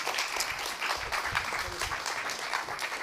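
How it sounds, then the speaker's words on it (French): Audience at an e-health conference clapping to welcome speakers, a dense burst of applause close and fairly steady throughout. "Et on peut vous applaudir."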